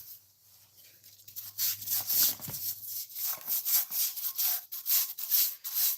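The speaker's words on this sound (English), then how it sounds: "Get the scrub brush." A scrub brush works over engine parts that had soaked in kerosene, giving rhythmic, close, bristly rubbing strokes that repeat steadily with no talking.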